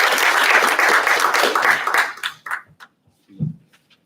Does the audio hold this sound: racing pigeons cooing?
no